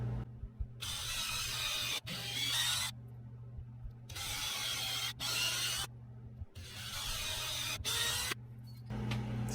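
Pilot holes are drilled to mount a VEVOR 8KW diesel heater, a power drill running in about four harsh, grinding bursts of a couple of seconds each with short pauses between, close by and without talk.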